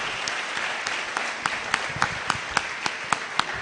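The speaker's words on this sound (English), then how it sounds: "Can we give the Academy another round of applause?" Audience applause at an academy founder's week celebration, a steady wash of many hands clapping with sharper individual claps standing out, moderately loud and continuous throughout.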